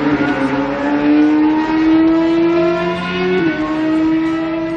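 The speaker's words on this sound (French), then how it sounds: "Le 4 cylindres marche vraiment très fort." A Kawasaki Ninja ZX-10R four-cylinder endurance racing motorcycle engine screams steadily at full throttle, its pitch rising gradually and dipping briefly before climbing again, loud and close.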